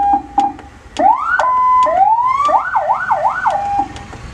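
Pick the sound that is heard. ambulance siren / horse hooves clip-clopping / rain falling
ambulance siren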